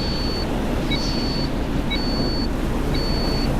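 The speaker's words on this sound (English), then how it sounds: "the cargo compartment is now blinking and giving off an alarm" A cargo compartment alarm on a multipurpose rescue vessel in Stormworks sounds a steady high electronic tone that repeats about once a second, over a constant low rumble of engine and sea noise.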